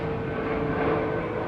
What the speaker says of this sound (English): Sorry about the plane, guys.